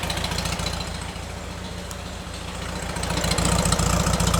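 A 1971 VW Bus air-cooled engine fitted with new dual 34 ITC carburetors idles low and steady with an even pitter-patter, close and loud, swelling slightly near the end.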